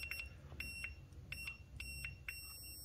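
Multimeter continuity beeps while testing a freshly soldered fuse for a Himiway e-bike battery: several short, faint beeps in a loose rhythm over low background hum, with no talk.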